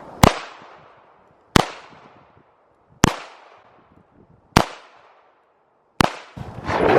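A Ruger .38 snub-nosed revolver fires five sharp, loud shots at a steady pace, each about a second and a half apart, with a short echo after each crack.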